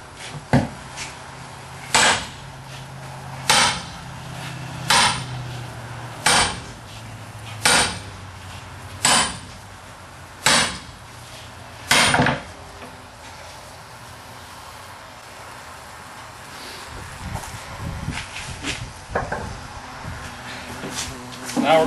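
A big sledgehammer pounds a log base for an anvil, about nine heavy, evenly spaced thuds ringing out one after another, then quieter shuffling and movement afterward.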